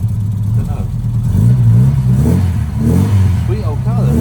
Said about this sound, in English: What a nice, sweet sounding old car.